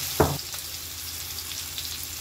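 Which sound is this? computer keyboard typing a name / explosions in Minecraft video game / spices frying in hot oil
spices frying in hot oil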